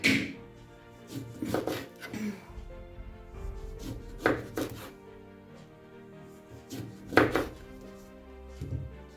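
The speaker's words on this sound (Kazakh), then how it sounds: "Лимонымызды тураймыз." A knife chops a lemon on a board in a series of irregular, fairly close thuds and taps, with brief scraping between cuts and no voices.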